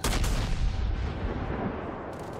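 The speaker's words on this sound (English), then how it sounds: "I'm using my anti-aircraft guns to try and do some damage to the dive bombers." Anti-aircraft guns fire in the naval combat game World of Warships, a loud, booming burst of gunfire with a deep rumbling tail that slowly fades away.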